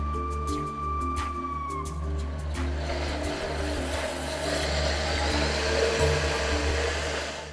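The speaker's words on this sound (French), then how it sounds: "Maintenant, on est parti pour mixer." A kitchen blender whirs steadily for several seconds as it purées fennel cream with tuna belly, a loud continuous motor drone that rises slightly near the end, with no talking.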